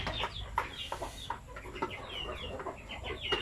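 Native chickens cluck and chatter in a loose flock at close range, with overlapping short clucks and calls at an uneven rhythm against faint farmyard background noise.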